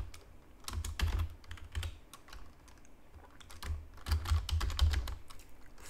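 Quiet typing on a computer keyboard, irregular clusters of light key clicks in two busier bursts with short pauses between, close and alone without talk.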